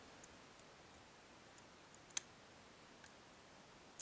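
Faint, isolated click from a Mottura C28 Plus lock being picked, one sharp tick standing out against quiet background with a couple of softer ticks around it.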